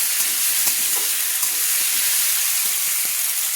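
Beans and vegetables fry in hot oil, a loud continuous sizzle and hiss close up, with faint stirring scrapes underneath and no voices.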